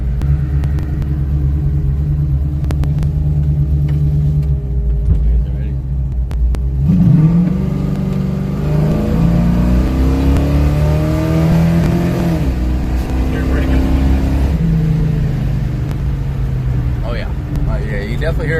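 A nitrous-fed 1973 Dodge Challenger with a 1500 HP Chevy engine idles with a deep rumble, then accelerates hard, its roar climbing in pitch through first gear before dropping back to a loud idle.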